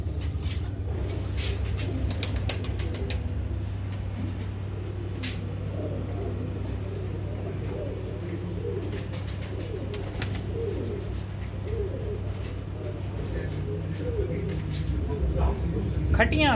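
A racing pigeon coos softly and repeatedly over a steady low mechanical hum, with a person talking nearby throughout.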